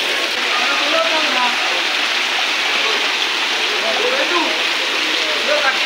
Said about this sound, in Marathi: भारी गेलो पाऊस।